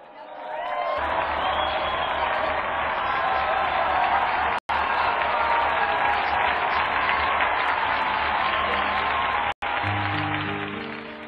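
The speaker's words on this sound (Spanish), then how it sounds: "Brindemos nuestro afectuoso aplauso a San Pablo" A crowd applauds and cheers for Saint Paul at a Christian youth gathering in Bolivia, sustained loud clapping with a few whoops, broken by two short dropouts and ending under music-like tones.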